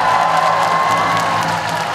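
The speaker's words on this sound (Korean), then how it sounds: "여러분들 함성과 박수 한번 질러보실래요?" Loud audience in a large concert hall at a Miryang arts festival performance, cheering and applauding in a dense, continuous roar with whoops throughout.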